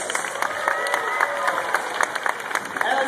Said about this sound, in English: big round of applause for your finalists.